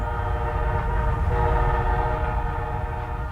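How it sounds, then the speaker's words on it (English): A freight train rolls through McPherson, Kansas with a loud, sustained horn blaring over the heavy rumble of rail cars, close and continuous throughout. "The trains coming through McPherson, Kansas only bring freight now."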